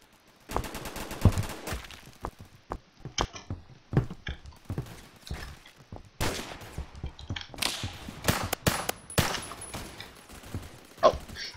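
Sniper gunfire in the Roblox video game, a rapid string of sharp, loud shots and bursts in uneven clusters, some layered together like a fusillade, with no talking.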